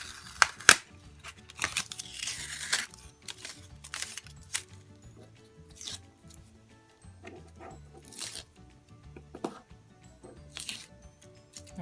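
Scissors snip through traced paper for a Nightmare Before Christmas Jack pencil holder craft, with scattered crisp cuts, paper rustles and handling noises close up, irregular and quiet between bursts.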